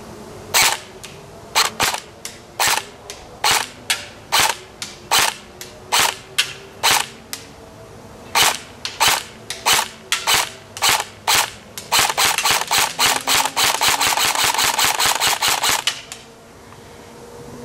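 An ARES M4A1 airsoft electric rifle on a 9.6-volt battery fires about two dozen sharp semi-auto pops at an uneven pace, then a rapid full-auto burst of roughly four seconds, crisp and loud with no voices.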